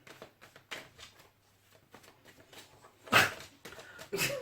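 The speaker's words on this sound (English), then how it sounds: "And if you can hear that tippy tapping, that's my dog." Soft scrabbling and small shuffling sounds of a dog moving close by, with faint whimpers and a couple of louder rustling bursts.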